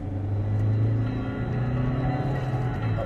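A car accelerating hard at Silverstone circuit, heard as a loud, close, steady engine drone with a deep rumble that holds through the whole stretch.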